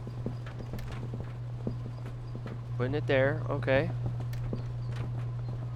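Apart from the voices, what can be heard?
horse hooves clip-clopping in video game Schedule 1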